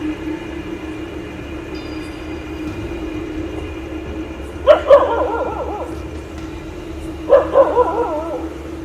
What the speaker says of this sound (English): But the dogs howled like crazy.